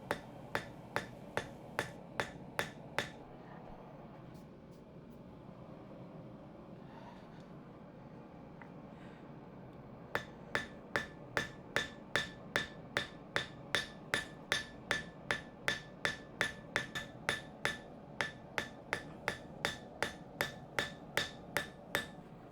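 Fast, evenly paced hammer blows ring out on steel as an arrowhead socket is forged, in two bursts separated by a short pause. The sharp metallic strikes are close and alone.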